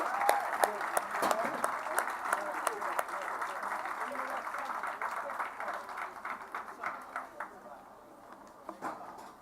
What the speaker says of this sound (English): How about another round of applause for all of our fantastic guests today?